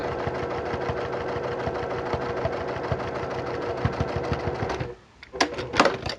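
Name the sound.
sewing machine stitching fabric face mask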